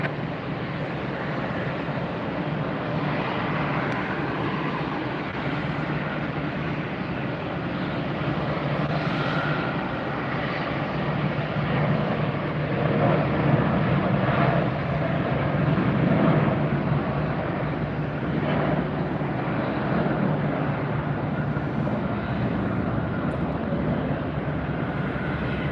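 An airliner taking off from runway 19 right at Tampa airport, a continuous, muffled jet-engine roar that swells slightly midway and holds steady to the end with no speech.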